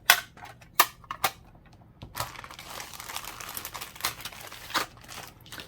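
A plastic bag holding a travel watercolor set crinkles and rustles close by, with several sharp crackling bursts at the start followed by steadier, softer handling noise.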